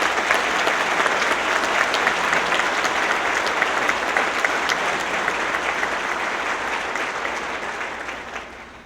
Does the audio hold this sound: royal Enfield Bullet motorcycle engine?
no